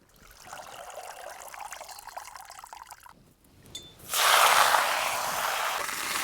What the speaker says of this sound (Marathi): भाजीसाठी तेल टाकून घेऊ.